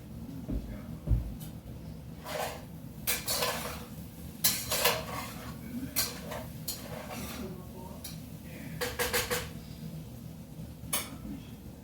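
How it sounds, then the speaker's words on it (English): A spatula scraping and clinking against a pan while sausage is stirred for sausage gravy, a series of sharp metallic scrapes and taps in irregular bursts over a low background hum, close and clear. "Mix the sausage around just a little bit with the spatula."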